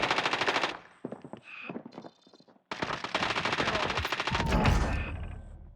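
Automatic rifle fire in the video game Call of Duty: Warzone plays as loud rapid bursts, with a short pause before a second, longer sustained volley.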